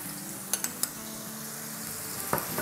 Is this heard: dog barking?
no